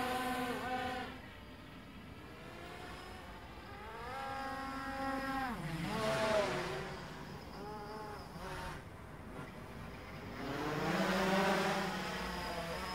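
The buzzing motors of a Blade 350 QX3 quadcopter drone in flight whine at moderate distance, rising and falling in pitch as it throttles up and swoops around.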